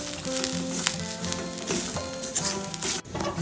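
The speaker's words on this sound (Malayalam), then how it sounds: "നമ്മൾ തേങ്ങ വറുക്കുന്നതിൽ കുറച്ച് കറിവേപ്പ് ഇടാം നമുക്ക്. എന്നിട്ട് നന്നായി ഒന്ന് വറുക്കാം." Grated coconut with curry leaves roasting in a pan, a continuous close crackling sizzle with scattered pops, steady and moderately loud throughout.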